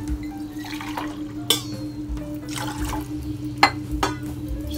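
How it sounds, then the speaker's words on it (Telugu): Water is scooped and poured with a drinking glass into a pot for ragi porridge, giving splashy pours, drips and two sharp glass clinks over a steady kitchen hum. "ఈ గిలాసుతో మూడు గిలాసులు నీళ్ళు తీసుకుంటున్నాను"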